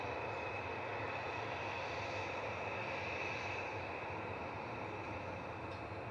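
A Jet2 Boeing 737-800 airliner lines up on the runway at Manchester Airport, giving a steady, moderately loud jet engine roar and hum that holds constant throughout, with no voices.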